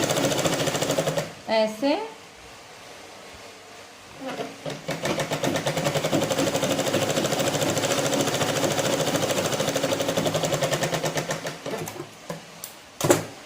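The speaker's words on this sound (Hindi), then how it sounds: "अब ये सीधी सिलाई मैं कर रही हूँ यहाँ पे" A sewing machine runs straight stitches on a blouse in long continuous whirring runs at close range, pausing briefly between passes while someone speaks in between.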